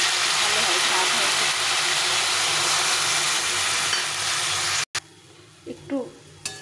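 Boiled water poured into a hot pan of raw banana curry sets off a loud, dense hissing sizzle that runs for several seconds, cuts off abruptly, then gives way to quieter bubbling and a voice.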